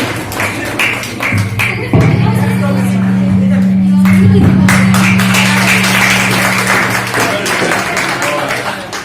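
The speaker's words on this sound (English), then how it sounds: "Please give a round of applause." An audience claps at a Constitution Day law college event. Scattered, sharp claps build into a sustained round of applause over a steady electrical hum, and a voice speaks on a microphone throughout.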